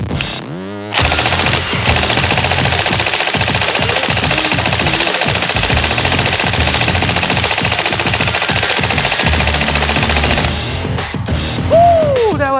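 An airsoft gun empties a full magazine at electronic E-Shooter Sentry 2 BT wireless targets, a loud continuous burst of rapid shots lasting about ten seconds, with brief mechanical clicks before and after.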